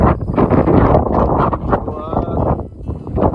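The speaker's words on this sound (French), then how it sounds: "Il y a du vent." Strong wind gusting across an open outdoor viewpoint on the Camino de Santiago, buffeting the microphone with loud rumbling bursts and rustle.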